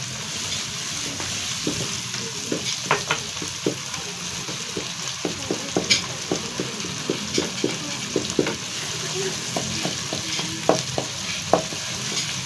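Turnip and pea sabzi sizzling in a pan after a little water is added, with steady frying hiss and repeated scraping clicks of a spoon stirring throughout.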